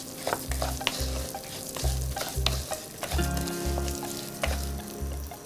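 Dal frying in a pan over low heat for achari moong dal, a continuous sizzle broken by a regular rhythm of scraping stirs, close and fairly loud, no voices.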